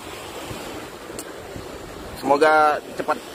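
Sea waves wash ashore at Melawai Beach in Balikpapan during a search and rescue operation, a soft continuous surf hiss under wind noise, with a short louder burst of activity near the end.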